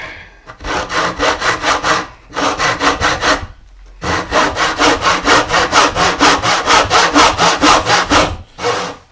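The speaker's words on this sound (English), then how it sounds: "you can use your standard good luck sawing technique" A hand saw cuts through wood in fast, rhythmic back-and-forth strokes, loud and close, pausing briefly twice before resuming its steady rasping.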